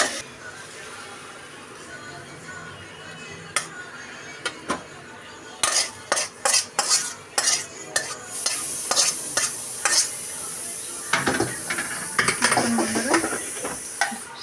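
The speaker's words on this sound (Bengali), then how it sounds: "শাক ভাজাটা হয়ে গেছে, এবার নামিয়ে নেব।" Kalmi greens being stir-fried in a pan, with a soft sizzle underneath a run of sharp spatula scrapes and clinks against the metal, growing busier and louder toward the end.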